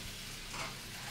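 Garlic-marinated prawns fry in a pan with a steady, soft, continuous sizzle that stays even throughout the short moment.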